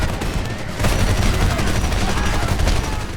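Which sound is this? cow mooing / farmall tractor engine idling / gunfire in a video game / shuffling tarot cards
gunfire in a video game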